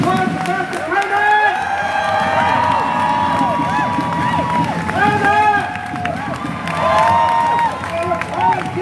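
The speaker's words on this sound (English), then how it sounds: "Round of applause for Pastor Kramer!" A crowd at a Free Palestine rally claps and cheers loudly and continuously, with many shouting and whooping voices layered over dense applause for several seconds.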